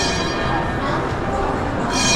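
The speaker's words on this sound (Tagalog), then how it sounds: "may tren na dumadaan dito." A train rolls by near a spot in Edmonton, Alberta, Canada as a dense, continuous rumble with some metallic clinking, loud and close throughout the short stretch.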